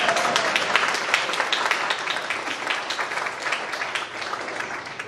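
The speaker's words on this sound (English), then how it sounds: "a round of applause for Sugar Mama Cookies" Applause fills a church sabbatical-sharing gathering as the audience claps for a cookie bakery, a thick, even patter of many hands held at a steady level throughout, with faint voices mixed beneath.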